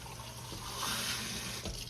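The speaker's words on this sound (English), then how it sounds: "I just added some water to the can, rinse the can out." Tap water running into an emptied tomato can to rinse it, a soft continuous splashing hiss at kitchen distance, fairly quiet.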